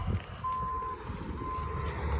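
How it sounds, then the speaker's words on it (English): A tow truck's reversing alarm gives two steady electronic beeps in cold outdoor air, moderately distant over a low engine rumble. "but tow truck here"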